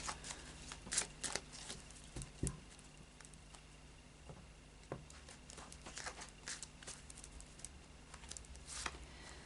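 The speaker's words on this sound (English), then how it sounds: "So I'll just do a final shuffle now with the Fairy Oracle by Brian Froud." Soft, quiet rustling and light papery flicks continue throughout as oracle cards are shuffled by hand close by, with a few sharper taps.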